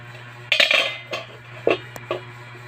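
A metal lid set onto a pot of nilaga (boiled bones with taro and pechay), giving a loud clattering clink followed by several lighter knocks and scrapes of metal over a steady low hum, with no voices.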